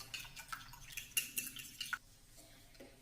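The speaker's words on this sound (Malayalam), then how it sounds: "ഇതിലേക്ക് ഒരല്പം ഉപ്പ് ചേർത്ത് കൊടുക്കാം. മുട്ടയൊന്ന് അടിച്ചെടുക്കാം." Eggs being beaten with a little salt in a bowl, a utensil clinking and scraping against the sides in quick irregular strokes, fairly close and moderately quiet, fading toward the end.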